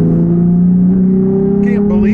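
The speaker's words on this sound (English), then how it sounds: "You can hear that exhaust wind up a little bit." Exhaust of a Toyota Tacoma pickup winding up under acceleration in traffic, a steady droning engine tone rising slightly in pitch, heard from inside the cab as someone talks over it.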